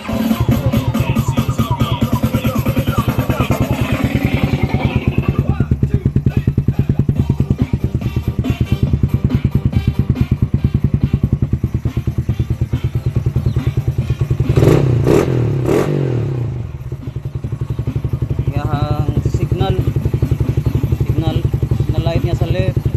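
A Suzuki Raider R150 Fi motorcycle engine cranks and starts, then settles into a steady, loud idle close by, with some clatter and a brief revving swell partway through; a voice speaks over it.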